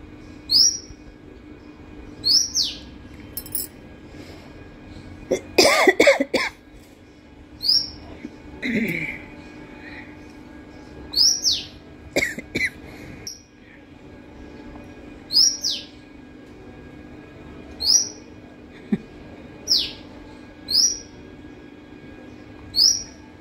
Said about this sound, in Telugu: ప్రతి పక్షి ఇంకో పక్షి కోసం అరుస్తుంది చూడండి